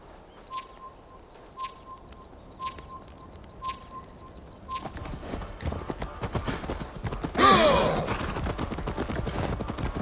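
A horse's hooves clip-clop in an even, rhythmic gait in Assassin's Creed Valhalla. Sparse birdsong sits underneath, and then the hoofbeats turn louder and busier.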